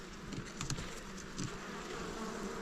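Honey bees buzz steadily and close by around hive frames in an apiary on heathland, a dense continuous hum of many insects with no voices.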